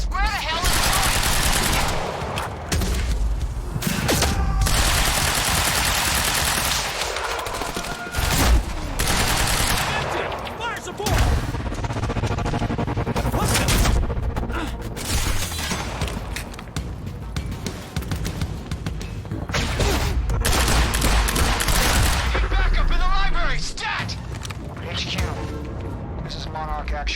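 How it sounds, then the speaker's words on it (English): Gunfire from Quantum Break, repeated bursts and single shots under loud shouting voices and in-game action noise, fairly close and sustained across the whole stretch. "We're under fire!"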